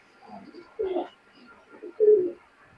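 Pakistani high-flying pigeons give two or three short, close coos with quiet gaps between them. A faint murmur in the background could be a voice.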